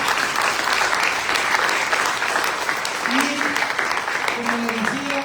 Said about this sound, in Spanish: Llévese también el fuerte aplauso de todos los presentes.